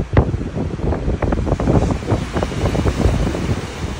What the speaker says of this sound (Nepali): अलिअलि हावा त यो त आज पनि चलिहाल्छ